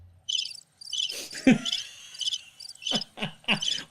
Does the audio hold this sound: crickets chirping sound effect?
yes